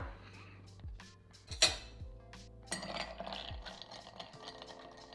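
A spoon stirs a Negroni with ice in a mixing glass, giving steady close clinks and rattles with a few sharper knocks against the glass.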